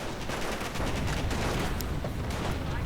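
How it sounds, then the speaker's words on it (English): Dense, continuous MG42 machine gun fire in a World War II strategy video game, loud rapid bursts mixed with other battle gunfire throughout. "MG42."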